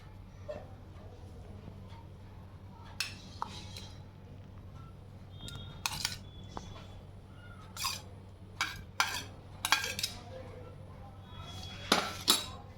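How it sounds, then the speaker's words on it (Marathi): Chopped onion and tomato are dropped into a bowl of cooled sweet corn for masala corn chaat, with scattered spoon clinks and taps against the bowl over quiet room noise. "आपण याच्यामध्ये एक एक करून हे सगळं साहित्य टाकणार आहोत तर मी घालते कांदा त्यानंतर टोमॅटो"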